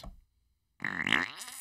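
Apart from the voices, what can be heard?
fart sound effect from Rodecaster Pro soundboard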